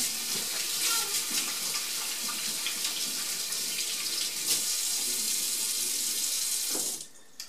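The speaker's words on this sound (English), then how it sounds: "I'm going to wash my hands and we'll get started." Tap water runs steadily into a sink during handwashing, a close continuous splashing hiss that cuts off abruptly near the end.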